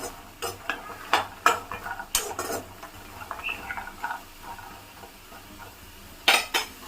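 Green peanuts dry roasted with salt in a pan, stirred so the nuts and salt clatter and scrape against the metal in scattered bursts of light rattling, moderately close, with no voices.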